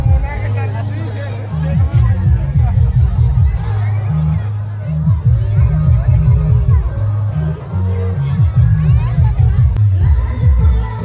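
A packed crowd on a hot day at the Harup Mela fair, heard up close as a thick babble of voices, shouts and children's calls that never lets up. Nearby people talk over the din.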